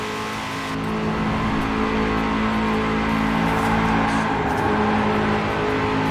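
A Hennessey Venom GT engine in Forza Horizon 4 drones steadily at high revs and rises slightly as it accelerates, loud and continuous throughout with no voices.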